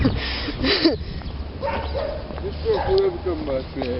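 Dog barking at a train station in Svilengrad, several yaps and yips mixed with whimpering, fairly close, over background street noise and people talking.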